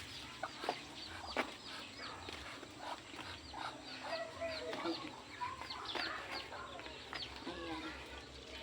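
Several chickens on a farm cluck and chatter nearby in a busy, overlapping jumble, with a few sharper calls and some background voices.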